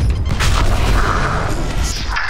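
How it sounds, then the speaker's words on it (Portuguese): A grenade blast in the tactical shooter Valorant, a loud close boom with a sustained rumbling roar that fades over a couple of seconds, no talk over it. "Granada!"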